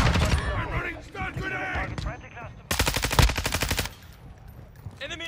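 Call of Duty Modern Warfare II gunfire, with rapid machine-gun bursts and rattling volleys, including one loud sustained burst in the middle, as voices shout over the shooting.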